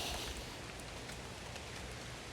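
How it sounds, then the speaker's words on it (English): Steady rain falls outdoors as a soft, continuous hiss with faint scattered drops, quiet and even throughout, with no voices. "it is a rainy start today for day one of the new tour"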